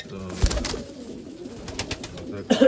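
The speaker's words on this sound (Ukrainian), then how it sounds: "Чорний голуб" Low, soft cooing of a black crested pigeon in a few short phrases, fairly close, over a murmur of background noise.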